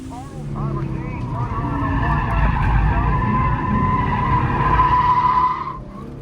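A 2014 Ford Mustang V6 slides through a drift at Lime Rock Park, tires squealing steadily over a loud, sustained engine roar heard from inside the car.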